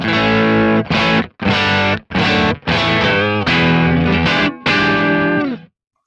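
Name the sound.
electric guitar through a Kemper Profiler amp profile, light crunch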